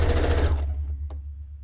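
A sewing machine runs a straight stitch in a short, steady burst that stops midway, leaving a low motor hum and a single faint click.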